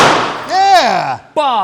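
A live .500 S&W Magnum cartridge bursts in a 300-ton hydraulic press, a loud bang decaying at the start, followed by excited shouting voices.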